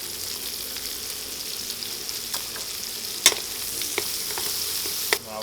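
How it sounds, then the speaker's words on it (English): Onions and garlic frying in a pan for a navy bean dish, a steady broadband sizzle running throughout with a few sharp crackles and spatters, close and fairly loud, no talking. "now we're gonna drop our onions,"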